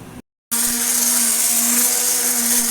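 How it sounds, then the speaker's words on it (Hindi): An electric hand blender blending lentils whirs loudly and steadily after a brief silence, a constant high-pitched motor drone with a low hum beneath. "मैंने दालों को ब्लेंड करने के लिए हैंड ब्लेंडर का इस्तेमाल किया।"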